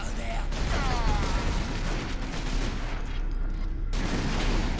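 Rapid gunfire in Warhammer 40,000 Space Marine, loud bursts of repeated shots rattling almost continuously with brief gaps, mixed with mechanical clatter and distant booms.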